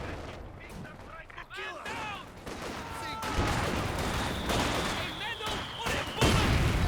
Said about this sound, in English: big shell from the mortar